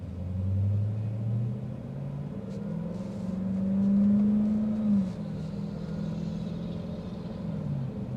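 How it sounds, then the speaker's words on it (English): A 2025 Dodge Durango SRT Hellcat Hammerhead's supercharged engine hums deep and steady inside the cabin while driving, rising in pitch as it accelerates, then easing back before climbing again, with no talking. "You literally just tap the gas pedal and this thing is just going."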